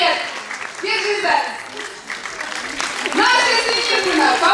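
Audience applause at a children's song festival on stage in Sochi, a steady wash of clapping with a presenter's voice talking loudly over it throughout.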